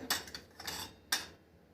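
Salt and red chili powder are tossed with thin potato wafers in a bowl, making three or four quick, light clinks and rattles in a short burst, close and without speech.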